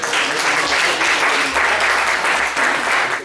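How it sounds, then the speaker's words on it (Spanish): Audience applause at an annual convention talk fills the room, a dense, steady wash of many hands clapping at close range, with a faint voice underneath. "un aplauso"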